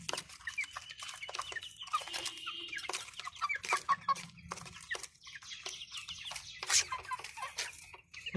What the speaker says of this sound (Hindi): ये है जी मुर्गी